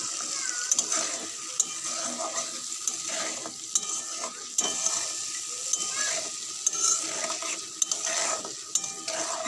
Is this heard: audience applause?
no